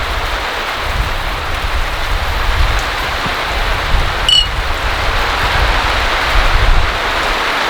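Heavy monsoon rain pours down on a campsite in a dense, constant hiss of drops hitting the surfaces nearby, loud and unbroken, with one small sharp click partway through.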